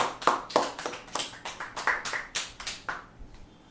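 A church congregation claps to welcome a speaker, about a dozen distinct claps in a loose, slightly uneven rhythm, moderately close and fading toward the end, with no talking over them.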